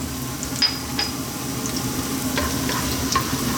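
Mushroom fried rice sizzles in oil in a pan on maximum heat, a steady, close crackling fry with occasional sharper spits and pops and no talking.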